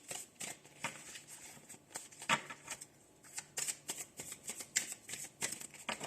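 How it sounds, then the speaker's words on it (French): Tarot cards being shuffled and drawn, a rapid series of soft papery riffles and flicks with brief bursts of card slapping, close and fairly quiet with no talk. "Allez hop, on va tirer une carte."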